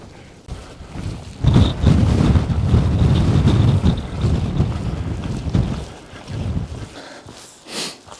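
Strong wind buffets the microphone on an exposed Black Mountains ridge during a wildcamp hike, a loud, continuous roar with gusting swells and low rumble, alone with no voices.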